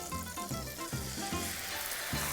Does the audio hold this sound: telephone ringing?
no